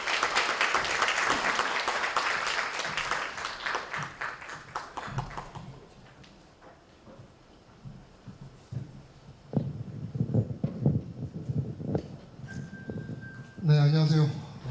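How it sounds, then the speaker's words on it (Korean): Audience applause at a commemorative ceremony as a professor is welcomed back to the stage, a dense burst of clapping that fades after a few seconds, followed by quieter room noise and a voice speaking. "큰 박수 부탁드립니다."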